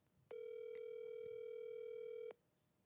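A single steady electronic ringback tone of a phone call waiting for an answer, about two seconds long, clear and close over quiet background.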